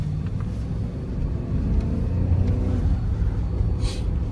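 A 2012 Dodge Ram pickup with a six-speed automatic rolls down the road, giving a low, even rumble and road noise that swells slightly midway and holds steady with no voices.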